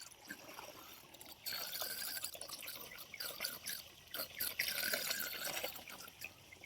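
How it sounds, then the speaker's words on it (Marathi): Water pours and splashes from an outdoor tap in a village, a continuous trickling rush with dripping, splattering detail that swells louder toward the end, no voices. "पाणी पडायला सुरुवात झाली आता"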